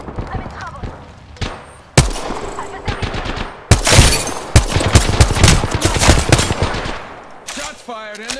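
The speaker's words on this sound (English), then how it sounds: "Shots fired and they're hitting me" Rapid automatic gunfire from an Apex Legends match, bursts of shots and loud sharp cracks coming in clusters near the listener, with chatter underneath the shooting.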